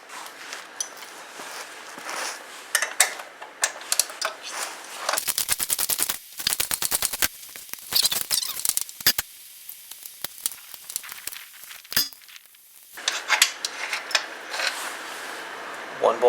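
Bolts come off the exhaust muffler of a Can-Am Spyder, with bursts of rapid, rattling impact-wrench hammering amid clinks and handling noises in a cold garage, some quiet stretches between.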